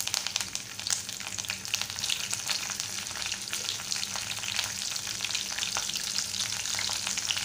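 Mustard seeds, curry leaves and green chillies sputter and crackle in hot oil for kaanda-batata poha, a steady dense sizzle with sharp popping specks throughout, close and fairly loud, no voices.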